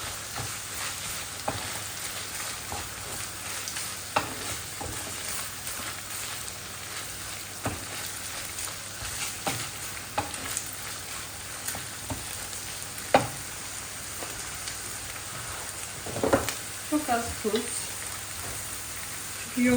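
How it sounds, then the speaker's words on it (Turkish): Spices roast in a frying pan during Iskender preparation in a home kitchen: a low, continuous sizzle runs throughout, dotted with scattered clicks and taps of stirring and a few brighter clatters near the end. "Bu baharatlarını da atacağım. Biraz kavrulsun."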